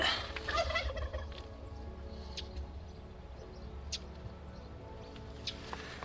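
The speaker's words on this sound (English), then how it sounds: "I'm now in here with the turkeys" Turkeys gobble in their pen, with a few short calls rising over a steady low background hum and faint scratching, no voices heard.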